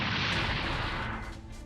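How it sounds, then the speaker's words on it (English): A booming explosion in the video game Super Robot Wars X, a loud dense blast that holds for about a second before thinning into a fading rumble, with no speech. "That explosion wasn't my doing."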